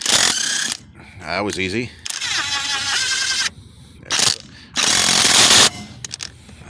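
Loud, rattling bursts from a Seesii WH710 impact wrench spinning off rusted lug nuts, several short runs broken by clicks and a brief spoken remark.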